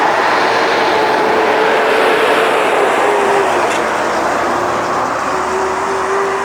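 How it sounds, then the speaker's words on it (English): A noisy truck passing near a park, a loud steady roar of engine and road noise with a faint whining tone that slowly rises, close by and filling the scene. "Noisy truck."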